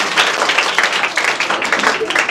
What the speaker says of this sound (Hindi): तो इस पहली मुलाकात को इतना जोरदार ताली से ताकि स्वागत करिए कि हमेशा यादगार बनी रहे।